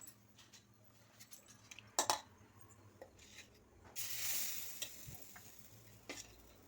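Dosa batter sizzling on a hot pan in a village home kitchen, a soft steady hiss with a louder surge midway, plus scattered scraping and clinks of a spatula against the pan, no talking.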